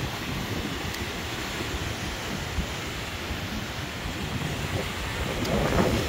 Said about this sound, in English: but a bit windy as always. It's Iceland. Windy Iceland.